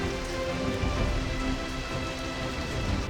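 Heavy monsoon rain in Meghalaya, India, pours down steadily in a dense, continuous roar of drops hitting surfaces, with no pauses.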